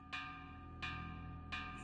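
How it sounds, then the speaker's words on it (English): Alarm bells in the Ys IX video game ring out in three evenly spaced metallic strikes, each with a long, tonal, ringing decay over a quiet background. "Alarm bells ring in the distance."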